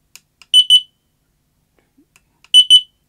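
A carbon monoxide detector, partly taken apart, sounds its alarm in two sharp pairs of loud, shrill electronic beeps about two seconds apart, with faint handling clicks between them.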